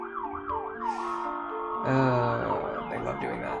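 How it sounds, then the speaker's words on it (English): Outdoor emergency sirens wail continuously, one tone sweeping up and down before a second, denser siren pattern layers in, loud and persistent with no talking. "Sorry about the noise of the sirens"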